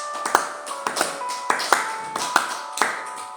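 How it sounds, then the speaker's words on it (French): A church congregation claps in rhythm, the sharp hand claps landing roughly every half second and coming across loud and close. "Acclamons très très très fort."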